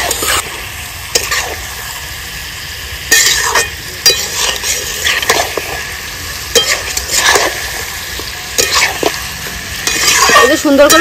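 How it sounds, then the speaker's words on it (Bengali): Mutton being stirred and mixed with ground ginger-garlic paste, cumin paste, dried red chilli paste, salt and turmeric in a village kitchen pot, with steady sizzling and frying under repeated scraping stirs that come in loud bursts. "সুন্দর করে মশলাটা সব মাংসের সঙ্গে মাখিয়ে নিয়েছি।"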